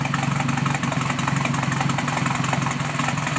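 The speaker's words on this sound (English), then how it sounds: "Out back here, it's got a pretty choppy idle." A MegaSquirt-tuned car engine idles roughly with a choppy, lopey rhythm from its cam, a steady loud rumble throughout with no talking.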